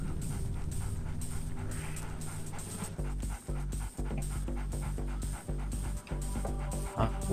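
Dogs pant steadily and loudly in the Splinter Cell video game, in a presidential palace level. Quick rhythmic breaths repeat over a constant hum, with a few brief dropouts.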